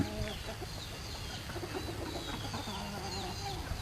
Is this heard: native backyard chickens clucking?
yes